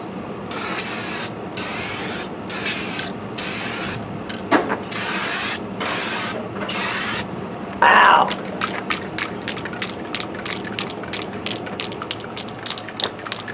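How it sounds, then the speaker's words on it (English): Spray can spraying paint onto a cheap Stratocaster-style guitar body outdoors, several long hissing bursts in a row with short pauses, close and loud, then a rattling shake and a string of shorter sprays and clicks. "Whoa, that sprays a lot. Really quickly."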